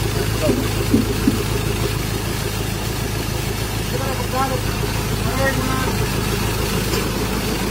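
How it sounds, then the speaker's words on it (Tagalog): A Ford Ranger engine idles roughly in a workshop, its low uneven rumble running steadily beneath people talking nearby. "Parang sumasayaw yung engine natin."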